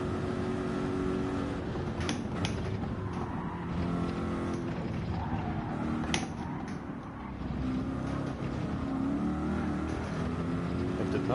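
An LMP prototype race car in a racing video game drives past, its engine a steady mid-level roar that swells briefly as it passes, heard over continuous background engine noise.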